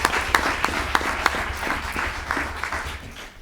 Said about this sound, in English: Let's give Navarre Dixon a round of applause